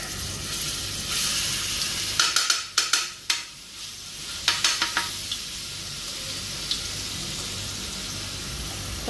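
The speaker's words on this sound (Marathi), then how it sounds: "चला टाकूया पहिला अद्रक लसणाची पेस्ट।" Ginger, garlic and chili paste hits a hot tava for a prawn fry, sizzling steadily up close while a spatula scrapes and clacks in a quick burst of strokes midway, then the frying settles back to a constant hiss.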